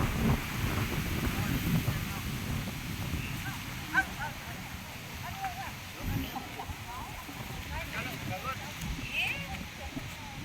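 Wind buffets a microphone outdoors on a tour in Japan, producing uneven low rumbling gusts throughout, with faint voices and other sounds mixed in underneath.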